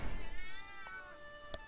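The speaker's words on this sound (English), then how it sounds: "And there's a cat." A house cat lets out a drawn-out, wavering meow that trails off, followed by a short sharp click, fairly close and with no one talking.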